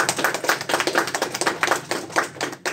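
Audience clapping at a talk show style presentation, a modest group of hands clapping in quick uneven bursts, moderately close and continuous for a few seconds with no talking.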